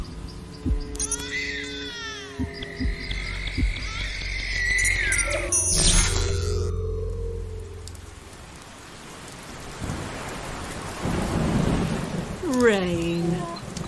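Rain and thunder effect in a radio drama, a steady wash of rainfall with a rumbling roll of thunder, heard beneath dialogue and other voices, plus sharp rising and falling tonal cries at the start and end.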